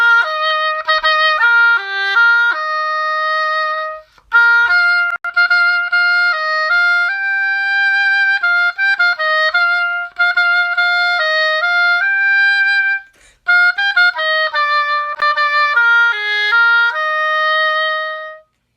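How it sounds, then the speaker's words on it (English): Oboe played solo, a bright reedy melody of sustained and stepping notes in three phrases with short breaths between, close and clear with no talking. "this is what the oboe sounds like."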